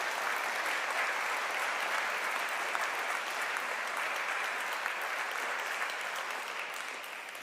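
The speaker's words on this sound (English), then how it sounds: "I want you to give her a round of applause" A church congregation applauds during a Sunday service, steady dense clapping filling the room for about seven seconds before tapering slightly at the end, with no voices over it.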